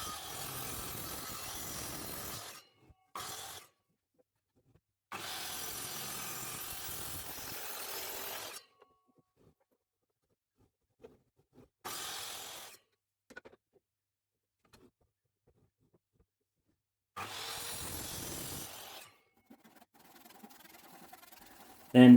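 A miter saw cuts salvaged hotel skirting board in several separate bursts of broadband whine, each a few seconds long, separated by stretches of near silence and small handling clicks.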